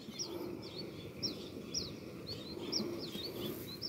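A songbird at a bird-fighting contest gives a series of short, sharp chirps and tweets in a quick repeating rhythm, fairly clear over a steady low background rumble.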